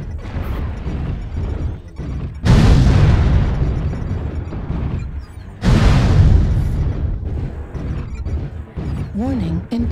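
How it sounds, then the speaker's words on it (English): Artillery strike explosions in a video game hit twice as heavy, loud booms with long rumbling decays, set against continuous game noise and a short rising electronic tone near the end. "Artillery strike activated"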